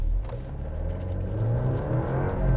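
A 2020 Alfa Romeo Stelvio Ti Nero Edizione launching in drive, heard from inside the cabin as a steady low engine rumble and whir that builds slightly, muffled and without distinct revving.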